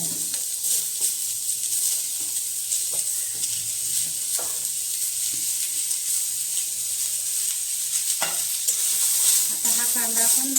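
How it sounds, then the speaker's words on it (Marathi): Chopped onion sizzles steadily in hot oil in a kadhai, with a constant bright hiss and occasional clinks of a spoon stirring in the pan. "त्याच कढईमध्ये आता आपण हा चिरून ठेवलेला कांदा आहे तो पण घालून घेणार"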